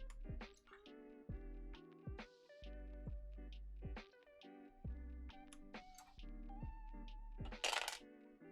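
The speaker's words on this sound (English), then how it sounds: "Dropping keycaps now." Keycaps drop one after another onto a mechanical keyboard during a keyboard build, making a quiet run of close, rattling plastic clicks and clatters with a busier burst near the end.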